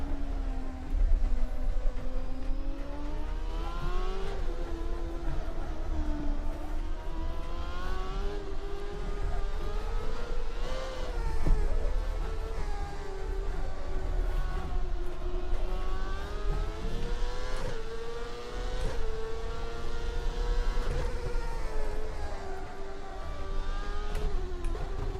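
A CART race car engine revs steadily through gear changes in the rFactor racing simulator at Mid-Ohio, a loud, continuous drone with rising and falling pitch sweeps and no talking.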